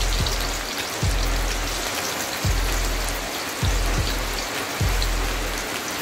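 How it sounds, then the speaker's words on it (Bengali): Chopped onions dropped into hot oil for ghugni give a constant crackling sizzle, close and moderately loud, with soft regular thumps of stirring or a utensil roughly once a second and no talking. "তেলটা গরম হয়ে গেছে, এবার এর মধ্যে কেটে রাখা পেঁয়াজগুলি দিয়ে দিচ্ছি"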